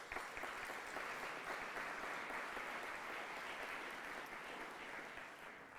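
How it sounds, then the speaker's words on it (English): An audience gives a round of applause for legislators and officials at a bilingual special presentation on tolerance, soft, distant, even clapping that holds steady and fades slightly toward the end. "I ask that you give them all a round of applause."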